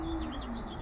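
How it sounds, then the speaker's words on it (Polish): Domestic racing pigeons coo softly and steadily, with chirpy bird calls mixed in and no talking. The pigeons seem startled and are chasing each other in the air. "gołębie jakieś wystraszone, to aby mewy mi atakowały, te gołębie gonią się w powietrzu"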